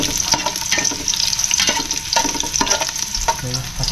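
A utensil scrapes and clatters noisily as food is stirred in a sizzling pan, in continuous close-up frying and scraping with repeated metallic knocks.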